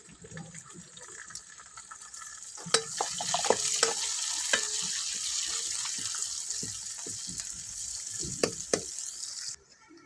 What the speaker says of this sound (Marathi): आता कांदा छान लाल तळलाय